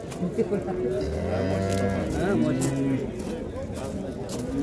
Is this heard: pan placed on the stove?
no